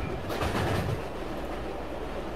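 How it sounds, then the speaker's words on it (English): A loud train in a video game rumbles past up close, a continuous heavy roar with a brief swell early on before settling into a steady drone. "The train is so loud."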